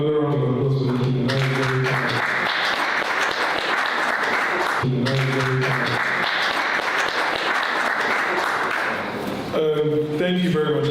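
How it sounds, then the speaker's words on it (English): An audience at a stakeholder engagement event gives a loud, steady round of applause lasting several seconds at a time, broken by short stretches of a voice speaking. "another round of applause for the"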